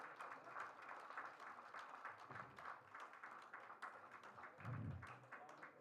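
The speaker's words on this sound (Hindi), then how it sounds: "जोरदार तालियों से स्वागत करेंगे." Audience at an international convention's inauguration and award ceremony applauding a special guest's welcome, a quiet, distant wash of clapping from a crowd with a brief low thump partway through.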